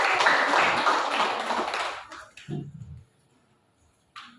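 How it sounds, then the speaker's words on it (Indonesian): Classroom group of students clapping for the first group's presentation in a school counseling lesson, a dense burst that fades out after two seconds, followed by a few scattered sounds and a brief noise near the end. "tepuk tangan dulu untuk kelompok 1"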